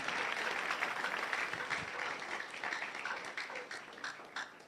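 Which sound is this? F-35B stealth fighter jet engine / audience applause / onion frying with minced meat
audience applause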